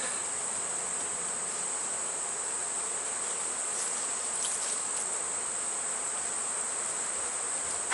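Honey bees hum steadily around their hive in a beekeeping yard, a soft continuous buzz with a few individual bees flying close by.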